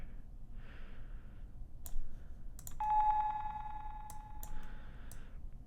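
A tonal electronic telephone beep sounds with delay-effect echoes trailing after it, among scattered clicks and a soft wash of sound.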